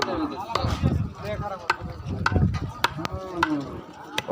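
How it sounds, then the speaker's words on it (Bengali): Cattle at a market, with a cow mooing close by several times over a busy crowd, with people talking in the background and sharp knocks or chopping sounds mixed in. "আমার যে দুইটা গরু নিয়ে আসছি আজকে দেখাই আপনাদেরকে।"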